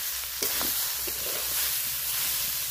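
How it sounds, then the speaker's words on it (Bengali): Ash gourd frying and being stirred in a pan, a steady close sizzle with scraping strokes of a spatula at a few points, no voices. "চাল কুমড়োটা তুলে দিলাম, আর নাড়তে নাড়তে আমি এর মধ্যে জল দেবো না"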